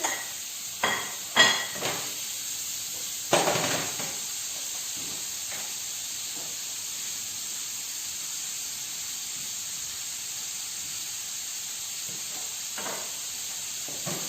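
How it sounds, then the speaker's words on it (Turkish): Köfte meatballs sizzle and hiss steadily in a hot pan, with a few knocks and clatters of utensils near the start and later. "Biraz kızartacağız bunu."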